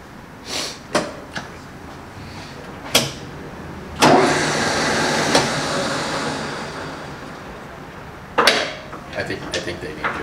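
An old engine is started, with scattered clicks and knocks followed by a burst of rough broadband running noise that dies away and then clatters again. People talk nearby throughout.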